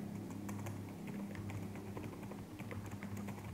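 Typing on a computer keyboard while filling in school BOS fund receipt forms, a steady run of soft, quick key taps at close range over a low background hum, no voices.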